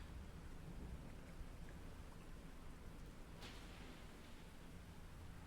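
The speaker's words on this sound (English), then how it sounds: "It's loud all of a sudden. It's spooky. It's because it's raining" Steady rain hisses evenly throughout in the video game DREDGE, with a faint rumble of thunder underneath and one brief brighter splash midway; no voices.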